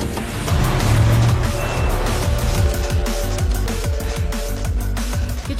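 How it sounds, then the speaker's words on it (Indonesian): Car engine rumbling steadily and loudly during a teenage girl's driving lesson under her mother's training, a continuous low drone with shifting tone and no voices. "Dari belajar menyetir"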